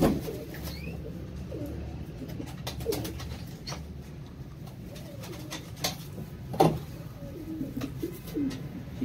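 Soft, low cooing of a pigeon being held for colouring repeats through the clip, with light rustling and a few sharp clicks in the background.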